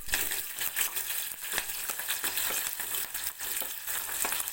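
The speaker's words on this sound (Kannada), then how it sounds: "ಈಗ ಸಾಸಿವೆ ಸಿಡಿತಾ ಇದೆ" Mustard seeds crackle and pop rapidly in hot oil with green chillies and shallots for an ivy gourd stir-fry, a dense, loud, continuous spluttering close by with no voices.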